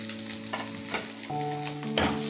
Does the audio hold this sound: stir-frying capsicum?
yes